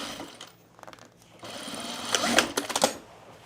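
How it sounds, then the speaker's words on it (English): An overlocker sergers fabric for men's cargo shorts, with short stitching bursts that start and stop, then build into a louder, sustained whirring run near the end, close by with no talking. "I'm going to overlock this"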